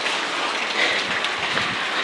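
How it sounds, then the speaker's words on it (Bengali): Light rain falling in scattered drops, a steady soft hiss of patter on surfaces with faint individual taps throughout, no voices. "এই হচ্ছে বৃষ্টির অবস্থা, ফোঁটা ফোঁটা বৃষ্টি হচ্ছে"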